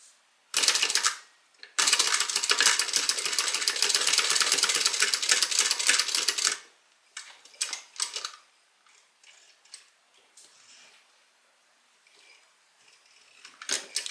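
A sewing machine stitches around a fabric bag in a fast, even run of mechanical clicks for several seconds, then stops and restarts in short, scattered bursts.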